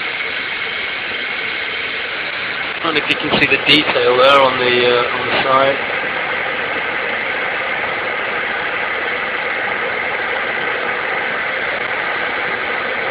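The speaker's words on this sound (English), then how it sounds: "Kettle is on. You can probably hear it in the background." An electric kettle heats water with a steady, even hiss and rumble that runs the whole time, while a voice talks briefly over it near the start.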